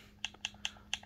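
Four crisp, evenly spaced key clicks on a keyboard, sharp and close, each followed by a faint softer tap, over a quiet steady hum with no speech.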